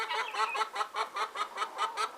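Backyard chickens cluck in a steady rhythmic series of about a dozen close, clear calls, each short and bright, repeating evenly with no talk over them.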